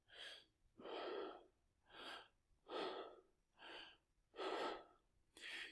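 Slow, deep belly breaths, alternating long inhales and exhales in an even rhythm, close and soft, with no speech.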